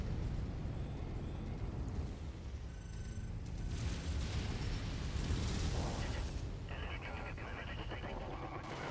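Missile impacts and explosions in the MechWarrior 5 mech combat game, heavy low rumbling blasts and mechanical clatter rolling continuously with bursts of crackling debris, loud and close.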